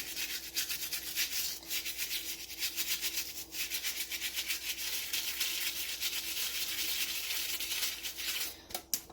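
A brush scrubs a gritty RC car part wet with alcohol, an Xmaxx monster truck component, in steady rapid back-and-forth strokes, close and fairly loud, with brief pauses and no talking.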